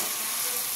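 Minced meat with a lump of fat hitting a pan of well-cooked spice paste, giving a steady, close, bright sizzle that holds an even level throughout with no talking.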